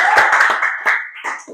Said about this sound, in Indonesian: Tepuk tangan buat Ibnu.